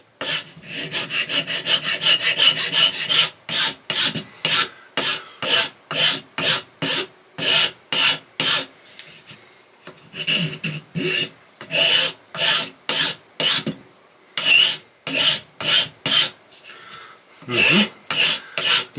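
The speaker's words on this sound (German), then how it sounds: "die Sägestellen nochmal mit der Feile schön glatt schleifen" A fine file rasps across sawn wood ends, smoothing the cuts on a bushcraft pot hanger in steady back-and-forth strokes, close and loud, with a few short pauses between runs of strokes.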